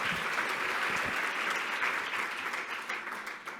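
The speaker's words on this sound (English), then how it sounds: "Give them another round of applause." A conference plenary audience claps in sustained, dense applause that holds steady, then starts to taper slightly toward the end.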